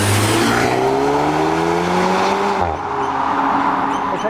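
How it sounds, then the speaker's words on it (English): A VW T-Roc R performance car accelerates hard, its engine note climbing steadily through the revs before a sharp gear change at about two and a half seconds, then pulling on loud and close with road and tire noise underneath. "this is a proper R car, so let's take it for a drive."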